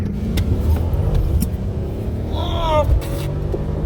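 A Mercedes-Benz CLS63 AMG V8 accelerates under throttle, a deep rumbling engine note building near and loud, with a rising whine near the end and people talking over it.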